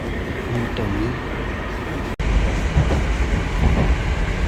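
A Moscow metro train rumbles steadily nearby, with a brief dropout midway before the roar resumes slightly louder.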